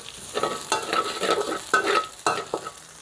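Pork stir-fried in a pan with chilli, garlic and lemongrass, giving a steady sizzle broken by repeated scraping stir strokes, loud and close with no voices.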